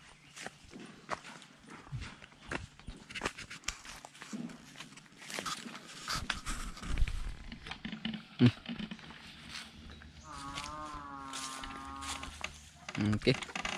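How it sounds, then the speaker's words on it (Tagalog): A herd of carabao, water buffalo bathing and swimming in water, with low lowing calls and splashy movement amid outdoor noise; a voice talks intermittently over the scene. "Daming kalabaw."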